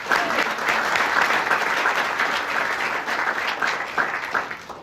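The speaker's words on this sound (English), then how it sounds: "can we give them one more round of applause?" An audience at a chamber of commerce breakfast gives a round of applause, many hands clapping in a full, sustained burst that tapers slightly toward the end.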